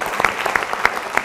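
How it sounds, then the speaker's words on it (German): Applause from a delegates' assembly of the Swiss library association, steady overlapping claps with a few louder individual claps standing out, brief and moderately loud. "Applaus"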